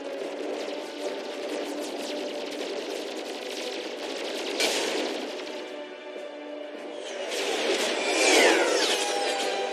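Dense, sustained gunfire rolls through a battle in the final Earth mission of the video game Mass Effect 3, with a sharp burst near the middle and a louder surge of shots and effects toward the end.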